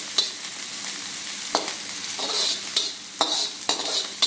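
Veg Manchurian stir-fried on a high flame, with a bright, steady, close sizzle broken by regular scraping tosses of the spatula against the pan, about one every half second to second.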